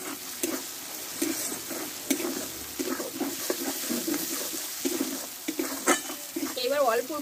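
Spice paste frying in oil with a spoon stirring and scraping through it, a steady crackling sizzle broken by repeated stirring clatter, close and moderately loud, for a Bengali-style potol (pointed gourd) dish.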